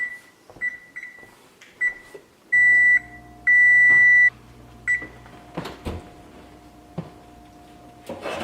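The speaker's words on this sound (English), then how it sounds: "I'm going to set the timer for a half hour." A kitchen oven timer is set for bread baking, giving several short button beeps followed by two longer sustained beeps, with a low hum and soft clicks and knocks around it in a quiet kitchen.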